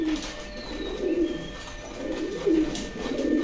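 Soft, throaty pigeon coos repeat every second or so against a quiet outdoor background, with a faint distant hum.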